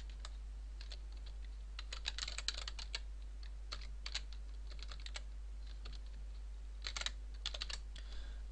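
Computer keyboard typing during C# programming, soft scattered keystroke clicks in short bursts over a low steady hum, with no speech.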